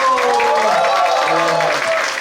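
An audience at a Miss Maxim showcase talk show applauds and cheers for a contestant, dense clapping with excited voices and a host-like tone running throughout, loud and continuous for about two seconds.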